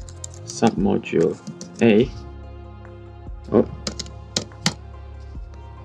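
A Python module command being typed on a computer keyboard: a short run of crisp, separate key clicks near the end, following a man's speech.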